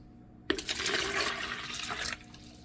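Water pours and swirls as malt powder is mixed into a jar for a traditional Ethiopian keribo drink, a single rushing burst of about one and a half seconds, close and fairly loud.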